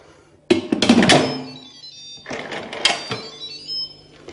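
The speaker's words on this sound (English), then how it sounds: "Then you twist on the lid." The lid of an Instant Pot DUO60 pressure cooker is set and twisted into place, giving two clusters of close plastic and metal clunks and scrapes with a few chiming rattles, separated by a short pause.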